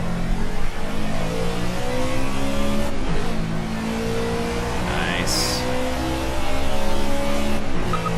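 A Ford Fusion stock car in the racing game Project Cars roars steadily at high revs, its engine note shifting through gear changes with a brief tire squeal, loud and close throughout.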